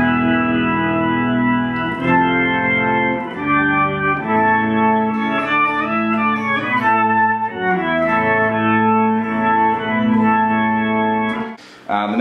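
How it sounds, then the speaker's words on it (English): Thick, Hammond organ-like guitar tone from an octave pedal with detuned octave layers and a wavering chorus shimmer, played as sustained chords and melody, loud and steady. "with a little bit of detune on the octaves, which means it gives an almost chorus sound effect"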